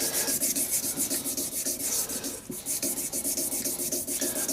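Sandpaper rubbing against a spinning wooden shaving brush handle on a lathe, a loud steady rhythmic rasping hiss that pulses with the rotation and barely pauses.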